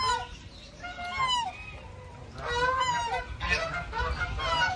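Birds at an aviary vocalize loudly in a run of honking, goose-like calls and clucks, overlapping and repeating close by, with a busy background of more bird noise.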